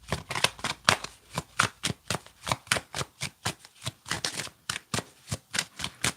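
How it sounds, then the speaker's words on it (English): Tarot cards being shuffled and pulled during a Pisces reading, a steady run of about twenty crisp, papery riffling bursts in quick even rhythm, close and fairly quiet, with no talking. "let's pull 2 cards here"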